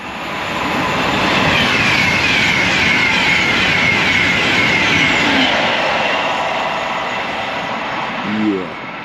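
Train pulling into a railway station platform on the line to Wolverton, a loud, steady rumble of wheels and engine rising and holding for several seconds, with a brief horn-like tone near the end.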